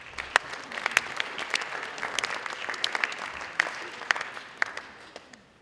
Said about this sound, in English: So please give a round of applause for my foil.